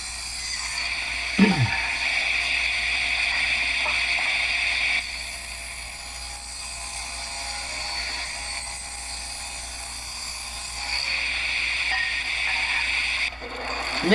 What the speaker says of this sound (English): I'm going to rip it here to